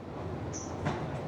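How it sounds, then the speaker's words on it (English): A metro train rumbles steadily through a deep Istanbul subway station, with a brief high wheel squeal and a clank in the middle of the low, continuous roar. "See, there's a bunch of people that just got off the train."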